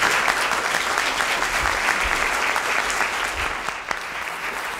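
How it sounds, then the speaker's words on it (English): Audience applause for panelists at a corporate responsibility conference, sustained even clapping from a sizable crowd that tapers slightly toward the end. "let's just have a round of applause for the panelists."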